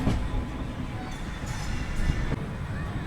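The 12970 Rajkot–Porbandar Motihari Express running near Kanalus Junction on the route via Jamnagar, heard as a continuous, heavy rolling rumble with periodic wheel clacks close by.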